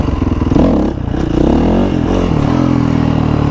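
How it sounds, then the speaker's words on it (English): A 450 race dirt bike's engine revving hard as the clutch is dumped to pop a wheelie, with a loud, close throaty rumble that dips briefly and then settles into a sustained, steady drone. "Essentially, you just want to rev to the right spot, dump the clutch, and that should pop the bike up."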